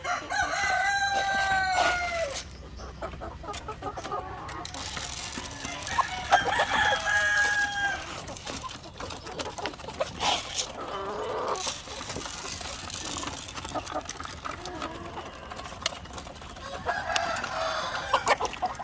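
Ready-to-lay hens cluck while feeding and a rooster crows over a busy, continuous background of farmyard noise.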